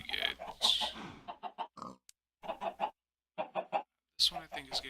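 Minecraft chickens in the Sky Factory modpack clucking in short, separate bursts across the scene, several birds at close range with brief gaps between calls and a louder cluster at the end.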